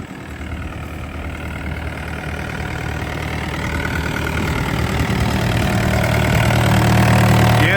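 A Yanmar diesel engine in a 2011 Bobcat E80 midsize excavator idles after a cold start outdoors, a steady close rumble that grows slightly louder toward the end.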